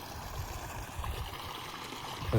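Irrigation water from a motor-pumped supply runs into a millet field, a soft continuous gurgling flow with no voices, steady and fairly close.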